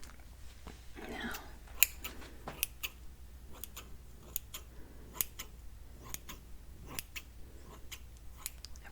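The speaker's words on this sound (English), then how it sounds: "I've got some really cool scissors here." Barber scissors snip in sharp, close bursts during a men's haircut, irregular crisp clicks spaced around a second apart in a quiet room.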